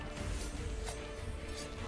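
An explosion in the shooting video game XSHOT gives a loud, dense burst of crashing noise that fills the whole stretch, with a couple of sharper blasts standing out partway through.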